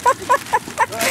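A dog gives four quick, short yips in an even rhythm, close by, followed by a brief whine.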